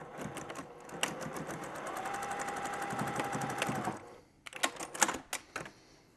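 A sewing machine runs steadily while topstitching a fabric grocery bag, a fast, even mechanical chatter close by for about four seconds, then stops and gives a few short, uneven bursts of stitching.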